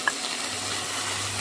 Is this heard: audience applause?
no